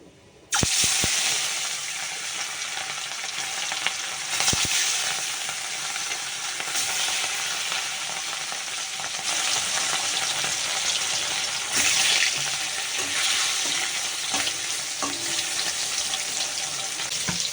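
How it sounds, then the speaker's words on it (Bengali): Continuous loud sizzling of fish frying in hot oil in a wok, close up and steady, with occasional clinks and stirring noises. "মাছ ভাজা আমার হয়ে গেছে"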